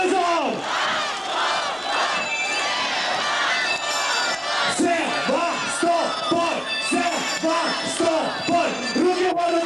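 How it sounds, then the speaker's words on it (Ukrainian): Large outdoor concert crowd in Sevastopol chanting a city name in unison, loud repeated rhythmic shouts from many voices rising and falling in steady beats, with cheering throughout. "я прошу зараз всіх вас підняти руку вгору і разом з нами скандувати чарівне слово Севастополь"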